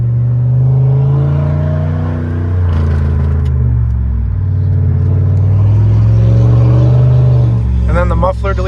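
A Pontiac Bonneville GXP with a straight-piped exhaust, catalytic converter and both mufflers deleted, rumbles loudly close by, its deep idle swelling into several throaty revs.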